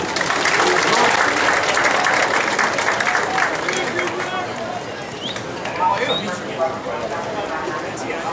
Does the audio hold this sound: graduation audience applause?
yes